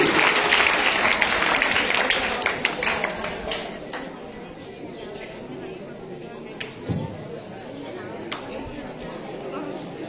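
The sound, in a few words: children applauding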